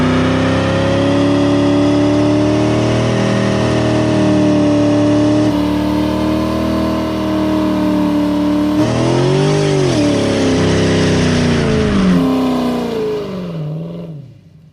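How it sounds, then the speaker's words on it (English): A 2012 Dodge Charger SRT8 with a cammed 6.4-litre V8 roars through a smoky burnout, its loud, sustained engine note holding high revs, then surging and dipping in pitch before the throttle lifts and the sound fades out at the end. "Oh, and did I mention it does a really good smoky burnout?"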